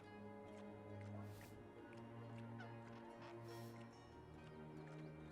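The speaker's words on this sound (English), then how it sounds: "Shoo, bird." A bird squawks in the game Dreamfall Chapters, two short harsh honking calls over a steady low ambient hum.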